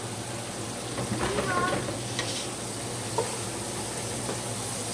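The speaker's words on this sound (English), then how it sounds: "I'm going to use that in just a minute and put down in here, and we're going to make our roux for our gravy." Seasoned flour frying in a pan as a roux for gravy gives a steady soft sizzle with light stirring scrapes, close by, while a voice speaks faintly in the background.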